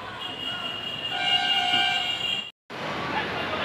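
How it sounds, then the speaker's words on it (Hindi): A metro train rumbles in steadily with a sustained horn tone, the noise briefly cutting out before resuming. "मेट्रो आ गई"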